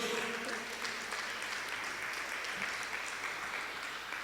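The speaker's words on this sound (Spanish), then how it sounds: "Dale un aplauso al Señor." A church congregation gives a round of applause, a soft, steady stream of many hands clapping heard from a moderate distance, continuing evenly with no speech over it.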